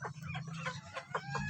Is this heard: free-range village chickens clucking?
yes